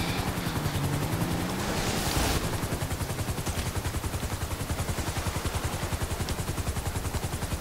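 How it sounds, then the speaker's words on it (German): Steady rapid thumping of helicopter rotor blades in the video game GTA 5 Online, loud and continuous, with a brief burst of noise early on. "So, mein Heli ist da."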